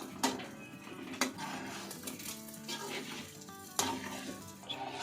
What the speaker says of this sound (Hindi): क्रीम डालते हैं ना आंच को स्लो कर देना और हम मिक्स कर लेंगे क्रीम को।